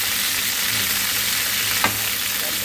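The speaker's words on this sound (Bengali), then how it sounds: "আর সেই সার্ডিন পিসটা এখন এই যে ভাজি হচ্ছে।" Sardine fish pieces fry in a pan with a constant, close hissing sizzle that fills the whole stretch, with one brief light tap partway through.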